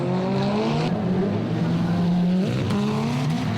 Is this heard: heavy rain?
no